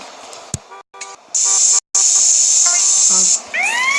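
A spray paint can hissing in GTA San Andreas, a loud continuous hiss that starts after a short break, holds for about two seconds, then drops away as other game sounds and a voice come in.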